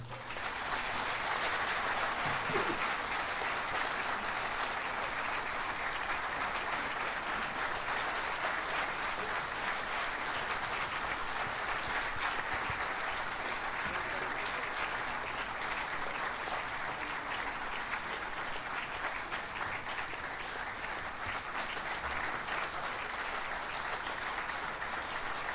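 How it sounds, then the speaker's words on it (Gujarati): Sustained audience applause at a Gujarati stage ceremony as an honoree walks up to the stage, dense steady clapping holding at an even level throughout without letup. "એ મંચ સુધી પહોંચે ત્યાં સુધી તાળીઓ."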